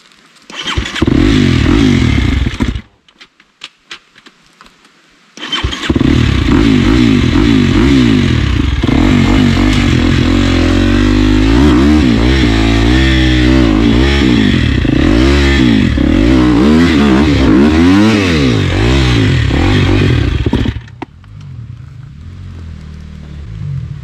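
Husqvarna motorcycle engines rev hard on a rough hard trail, loud and close, with a short burst, a pause, then a long strained roar of rising and falling revs with clattering, fading into quieter idling.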